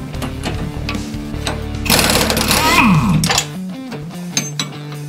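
Power wrench undoing bolts on a Tesla Model 3 hub carrier, a loud steady motor whine that swells into a harsher rattling burst midway, then settles back to a running hum, with no talking.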